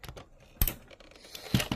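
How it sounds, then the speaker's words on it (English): A few small, sharp clicks come from the toe joints of a JoyToy Warhammer 40k Blood Angels Redemptor Dreadnought action figure as they move, quiet and close. "And that was his toes clicking then, so they still need to be stiffer."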